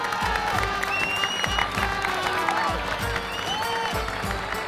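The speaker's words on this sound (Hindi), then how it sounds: "एक बार जोरदार तालियां।" A large studio audience on a Hindi sitcom stage applauds loudly and steadily, dense clapping with some cheering blending with music throughout.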